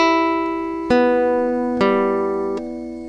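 Guitar strings plucked with the flesh of the finger and the fingernail ring out as three clear, separate notes about a second apart. Each has a bright attack and a sustained, harmonic-rich decay, close and fairly loud with no talking.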